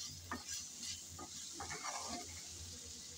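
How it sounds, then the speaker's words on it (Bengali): Potatoes and broccoli are stirred and fried in a pan with little oil, giving soft scraping stirs over a faint sizzle, quiet and close. "সব একসাথে ভালোভাবে নেড়ে চেড়ে ভেজে নিতে হবে।"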